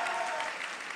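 Audience applause at a televised talent show, a sustained dense wash of clapping from a crowd, steady and fairly loud throughout with no voices over it.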